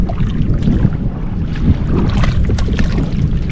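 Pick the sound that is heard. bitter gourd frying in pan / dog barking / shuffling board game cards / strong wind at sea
strong wind at sea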